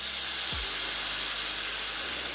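A tablespoon of batter hits medium-hot oil in a skillet with a soft thump, then fries in a steady, hissing sizzle that runs throughout, close and moderately loud.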